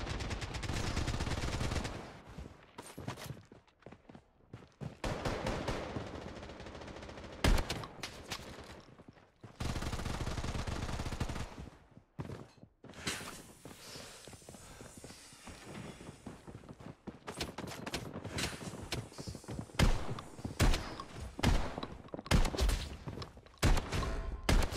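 Rapid gunfire in the shooter game Bloodstrike, a round on the Shutter Island map where shotguns and an AK are in play, loud bursts and dense volleys crowding the whole stretch.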